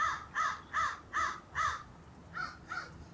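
Crows caw in a Canadian cemetery, about seven harsh calls in a steady rhythm, five evenly spaced and then two slightly fainter, over a quiet outdoor background.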